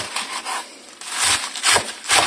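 Crisp crunching knife cuts dicing vegetables into cubes for soup, a handful of irregular chops close by, growing sharper toward the end.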